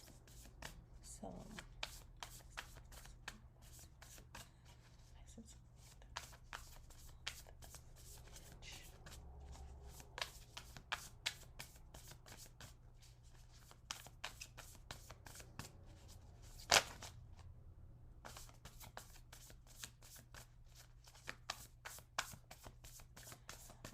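Tarot cards are shuffled by hand in a quiet room, a steady patter of soft riffling clicks that continues throughout, with an occasional sharper snap standing out.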